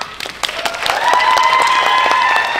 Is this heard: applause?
yes